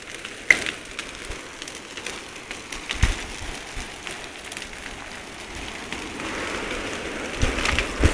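A wildfire burns through pine forest on Chios, giving off a continuous crackling hiss with scattered sharp pops and snaps, fairly close and moderately loud.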